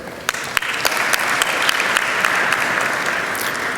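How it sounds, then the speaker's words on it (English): A live audience at a poultry industry event applauds steadily, a dense wash of clapping with a few sharper claps standing out near the start, moderately loud and continuous throughout. "So please clap for Poultry India and their support."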